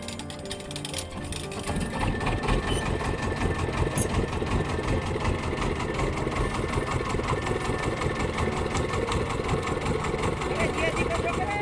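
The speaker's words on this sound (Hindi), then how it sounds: "वहां से इंजन से चलने वाली एक बड़ी नाव" A large engine-powered boat on the Narmada river chugs with a steady, loud mechanical rattle and knock that runs throughout, with a voice speaking over the noise.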